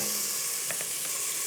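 Lamb and garlic fry in a pan with a dense, steady sizzle and hiss, close and even, with a couple of faint soft clicks in the middle of the short stretch.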